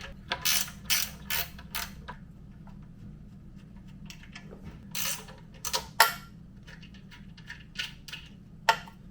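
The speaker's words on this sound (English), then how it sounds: "There's two nuts here on the front of the tank. I'm going to take them loose and hopefully tilt this up." A ratchet wrench loosens the two front fuel-tank nuts on a Predator 212 mini bike, giving close, loud bursts of rapid clicking separated by short pauses and small metallic knocks.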